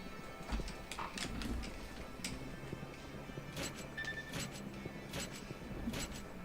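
Racehorses clip-clopping in the Gallop Racer 2004 horse racing game, a busy patter of hooves with a brief whinny, fairly near and steady, with no talk over it.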